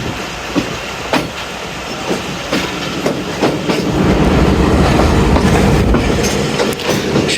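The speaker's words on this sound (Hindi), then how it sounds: "काफ़ी स्लो स्पीड में हमारी ट्रेन यहाँ से पास हो रही है" Jaffar Express passenger train rolling past at slow speed, a steady low rumble with repeated clickety-clack wheel beats on the rail joints, growing louder and denser midway as the carriages pass close by.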